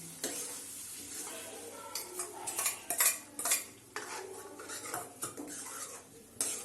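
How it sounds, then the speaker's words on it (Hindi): Boiled dal being stirred into a cooked masala in a pot while making Mughlai dal, with repeated scraping and clinking of a spoon against metal. The strokes are uneven, close and fairly quiet, and a soft sizzle runs underneath. "अब इसमें ये वाली दाल डाल देंगे जो हमने सबसे पहले बॉईल की थी। इसको अच्छी तरीके से इसमें मिक्स कर देंगे।"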